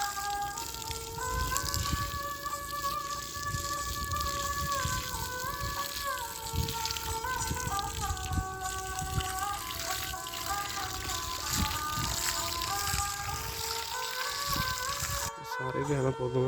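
Irrigation water runs steadily to young high-density mango plants on a farm in Muzaffargarh, a continuous trickling flow heard beneath people talking, with some tonal background sound throughout.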